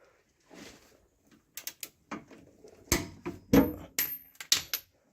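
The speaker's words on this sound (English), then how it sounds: "And torque those bolts tight." Torque wrench tightening rear sway bar bolts on a Honda Fit, a series of sharp metallic clicks and ratcheting bursts in short uneven clusters, close and fairly loud, with no talking.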